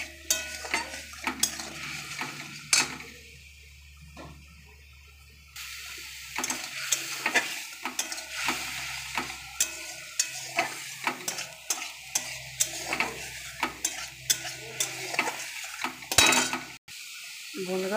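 A fried spice mixture with a little sugar is stirred in a pan for an hog plum dal bora dish: repeated close scraping and clinking of a spoon against the pan over a soft sizzle, with short pauses.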